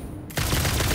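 In the factory-building video game Satisfactory, a burst of celebratory gunfire kicks in abruptly after a brief quiet moment, becoming a loud, dense, continuous rattle that fills the rest of the short moment.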